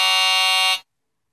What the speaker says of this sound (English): Low battery alarm.